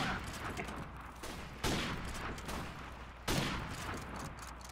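Gunfire in a shooter video game: bursts of rapid shots under a constant crackle, with two sharp, louder volleys standing out in quick succession at moderate loudness.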